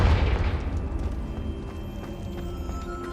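A Confringo fire spell in Hogwarts Legacy bursts with a heavy, loud boom at the opening, then trails off into a rumbling decay with faint scattered crackles; no one speaks.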